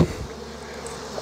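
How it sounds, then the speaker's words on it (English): A dense, steady buzz of many honey bees flying around an opened horizontal hive during an inspection, continuous and close, with a brief thump at the start. "They're flying, but you got to remember there's so many bees in this hive."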